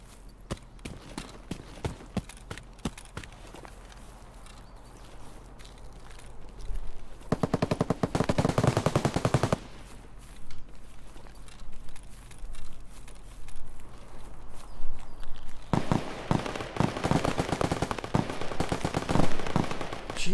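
Sustained automatic gunfire in the shooter game Escape from Tarkov, with scattered distant shots early, then a long loud burst in the middle and another heavy rapid volley near the end.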